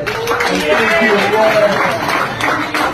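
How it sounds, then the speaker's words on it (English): Applause at a private dinner honoring Stevie Wonder: a broad, steady patter of many hands clapping in a room, with a voice speaking briefly over the crowd. "Can we all please give him a round of applause?"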